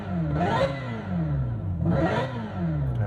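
Synthetic engine sound from a 2025 Hyundai Ioniq 5 N electric car in Evolution mode, two loud rising-and-falling revs with layered whining tones, close and alone without talk.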